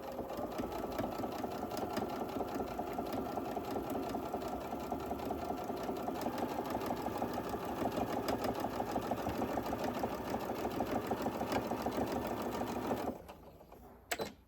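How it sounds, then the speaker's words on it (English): A sewing machine set to stitch length 3 back stitches and then runs straight across fabric, a loud, close, unbroken rapid chatter lasting about thirteen seconds before stopping abruptly, followed by a brief click. "I'm going to start with a back stitch and just stitch all the way across"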